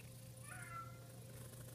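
A cat at a home with many cats gives a single faint meow at dinner time, rising and falling briefly over a low steady hum, no talking.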